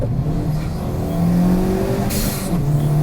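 A Honda Type S accelerates hard, its engine revving upward in pitch with a brief shift break and a burst of wind or road hiss near the end, heard from close range.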